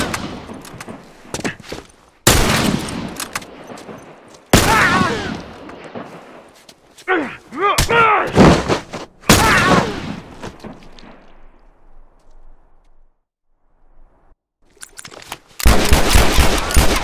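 Rifle fire in a first-person shooter match, loud bursts of shots arriving in separate clusters with quiet gaps between, some rapid volleys and a closing heavy burst; no talking.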